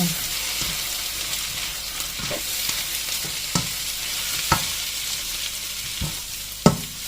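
Siomai are sautéed in a pan, with a steady close frying sizzle broken by repeated sharp scrapes and knocks of stirring.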